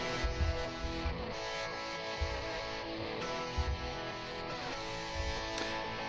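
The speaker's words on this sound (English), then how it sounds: "Now we have the new guitar stem. That sounds like this." Isolated guitar stem pulled from a full mix by Logic Pro 11.2's stem splitter: dense strummed guitar with faint drum thumps bleeding through, steady and continuous with no voices.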